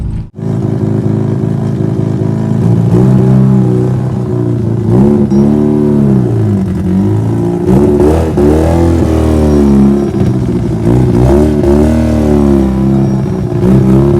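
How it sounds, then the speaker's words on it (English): A Mazda FC RX7 engine in a chassis-swap car runs loud and close, revving repeatedly in rising and falling sweeps over a steady drone for the whole stretch. "So, but yeah, it runs and it drives."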